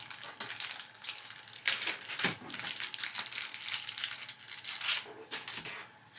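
Close, crisp riffling and snapping of a deck of improvement cards from the board game Creature Comforts being shuffled, with papery crinkles and quick bursts of flicking, fairly quiet.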